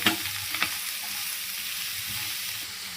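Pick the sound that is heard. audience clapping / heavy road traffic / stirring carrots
stirring carrots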